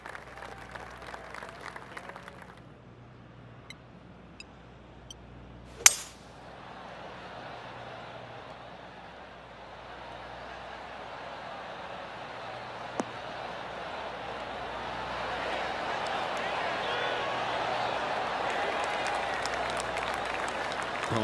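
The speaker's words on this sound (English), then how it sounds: "Oh, golf clap." Polite golf clap from a virtual gallery in PGA Tour 2K23, rising gradually from quiet ambience into a soft, sustained spatter of crowd applause, with a couple of sharp isolated knocks earlier on.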